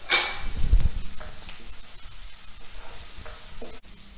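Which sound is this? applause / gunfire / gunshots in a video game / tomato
tomato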